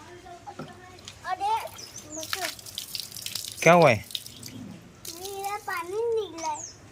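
Water drained from a guppy fish tank runs into a bottle being filled at home, a soft splashing trickle heard close by beneath frequent chatter from a child and adults.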